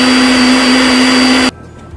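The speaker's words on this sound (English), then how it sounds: "All right, guys, let's blend." Kitchen blender whirring loudly and steadily as it blends gizzard coating ingredients, a dense motor roar that cuts off abruptly after about a second and a half, leaving near silence.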